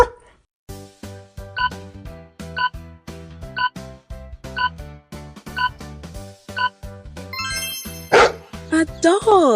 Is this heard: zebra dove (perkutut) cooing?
no